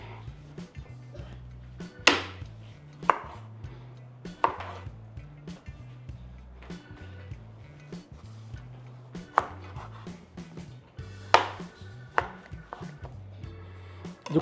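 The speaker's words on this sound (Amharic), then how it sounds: "ዝኩኒ መክተፍ ነው።" A knife chops zucchini on a cutting board close up, with sharp, irregular strikes spaced a second or two apart over a steady low background hum.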